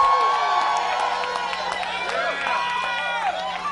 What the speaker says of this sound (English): Just scream. Scream.